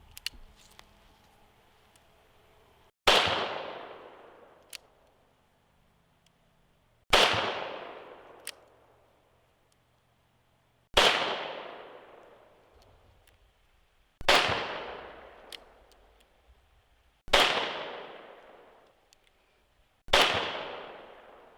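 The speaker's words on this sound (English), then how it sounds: "Now the Nagant has both single and double action. Let's do a couple single action and a couple double action." Six loud, sharp Nagant revolver shots fired one at a time at spaced intervals, a mix of single-action and double-action pulls, each crack followed by a short ringing decay.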